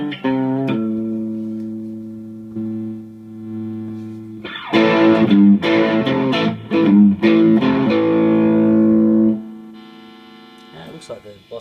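An electric guitar runs through a Boss-style distortion model on a NUX MG-200 modeling processor, sustained clean-toned notes giving way to a loud burst of driven, gritty chords and riffs, then fading out.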